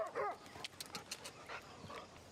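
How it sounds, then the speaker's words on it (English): A dog pants and snuffles close by in a quiet room, with short quick breaths and a few faint whimpery sounds over a few seconds, no one talking. "He's just a dog."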